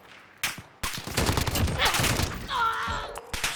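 Rapid gunfire from a weapon in Call of Duty Modern Warfare, loud bursts over busy battle noise, with a sharp shot at the start and more shots near the end.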